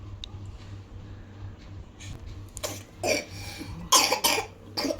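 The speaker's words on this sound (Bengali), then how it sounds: "কাশি হচ্ছে।" A child at home coughs in several short, loud bursts over a faint steady hum, the coughs growing stronger toward the end.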